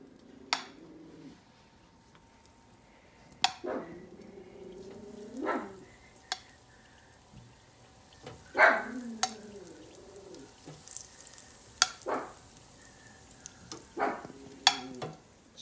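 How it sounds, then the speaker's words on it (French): Mushroom and duck confit arancini lowered into hot oil, with scattered clinks and handling noises and short bursts of bubbling, fairly quiet and close, over a faint steady hiss. "On va les mettre dans l'huile."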